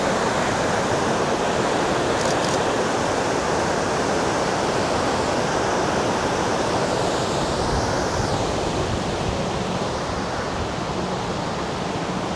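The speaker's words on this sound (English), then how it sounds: "Now that's some raging water." A roaring, steady rush of heavy falling water at Victoria Falls, Zimbabwe, fills the whole clip, loud and close, with no voices.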